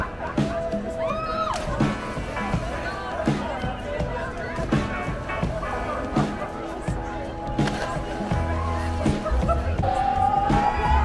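A busy summer crowd at a popular Copenhagen swimming spot in Denmark fills the air with overlapping outdoor chatter and voices, with scattered knocks and thumps throughout.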